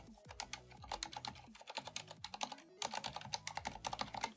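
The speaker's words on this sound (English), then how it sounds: "So this is what this one sounds like." Typing on a gaming keyboard fitted with silent switches, a close run of soft, muffled key presses in quick uneven bursts with brief pauses between, no voices.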